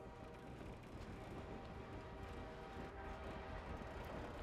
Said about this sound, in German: Ein Zug.